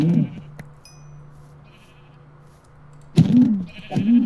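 Minecraft sheep bleat as they are struck, one short hit cry at the start and two more near the end, loud and close over quiet game ambience.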